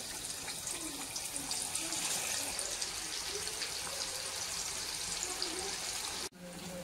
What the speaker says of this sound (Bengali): তেলটা গরম হয়ে গেছে, এবারে মাছগুলো আমি ভেজে নেব।